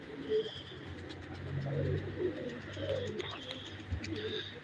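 Birds calling outdoors, with soft cooing and a few chirps over a steady low rumble of background noise.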